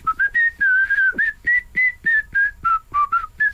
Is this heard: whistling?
yes